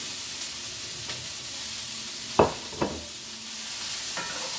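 Finely chopped ingredients go into a hot frying pan with a steady sizzle and hiss throughout, and a couple of soft clanks as they are tipped in and stirred.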